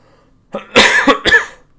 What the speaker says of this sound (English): sorry, I'm coughing right now